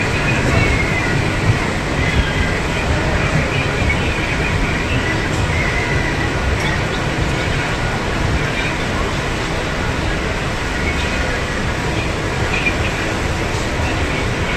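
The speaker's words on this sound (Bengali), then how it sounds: "মা তারা এক্সপ্রেস বেরিয়ে যাচ্ছে।" Maa Tara Express train pulling out of a station on the Sealdah line, a steady loud rumble of wheels and carriages that runs without letup, with faint voices mixed in.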